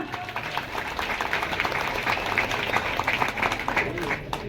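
An audience at a kirtan gives a brief burst of applause, a dense patter of many hands clapping steadily for a few seconds at moderate distance.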